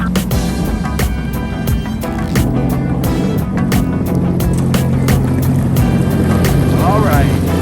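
A Sea-Doo personal watercraft engine warming up at launch, a loud steady motor drone with wind and water noise, close and continuous throughout, with sharp knocks and rattles over it.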